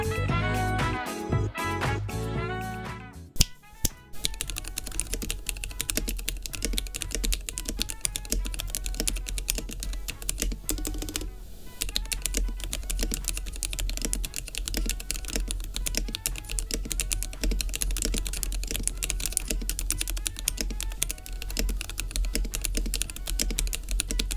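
Rapid, continuous clacking of a mechanical computer keyboard fitted with decorative keycaps, close and steady, after a brief burst of other sound at the start.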